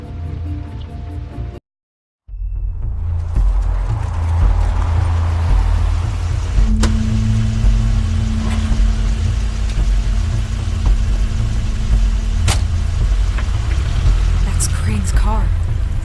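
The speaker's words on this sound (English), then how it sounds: "Car." A car arrives in the video game The Wolf Among Us, heard as a steady loud engine rumble with rain-like hiss, after a brief silent gap; a single tone sustains midway and sharp clicks punctuate the mix.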